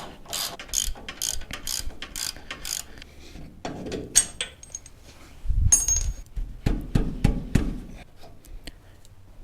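Hand tools working on old shock absorbers during a QA1 dual adjustable coilover install on a car in a garage: rapid ratchet clicks in bursts, metallic clanks and knocks, close by with no talk.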